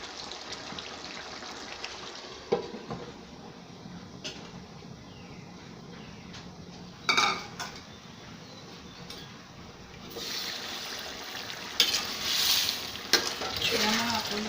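Jackfruit curry stirred in a pan on the stove, a soft scraping and sizzling bubble running underneath, with louder bursts of frying and a few sharp clinks of the spoon near the end.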